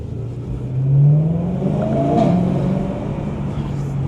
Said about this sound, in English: Those gear shifts just put you back in your seat.